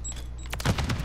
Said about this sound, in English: I'm gonna throw a Semtex that way.